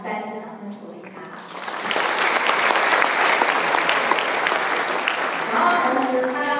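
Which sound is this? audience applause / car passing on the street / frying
audience applause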